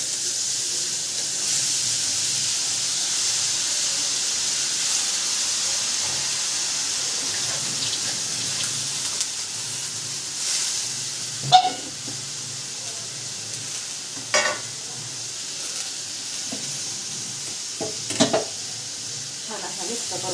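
Green beans tossed into a hot pan hiss with a steady, loud sizzle and steam, joined by a few brief scraping stirs toward the end.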